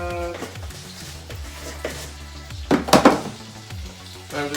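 Food coated in bouillon being stirred in a frying pan, with soft sizzling under scraping and clinking of a utensil against the pan, and a brief louder clatter of stirring midway.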